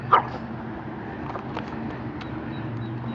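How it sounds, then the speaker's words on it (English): A long-haired Chihuahua gives a single short, fairly quiet bark near the start, then only low indoor background hum follows. "And that was Grace and her bark"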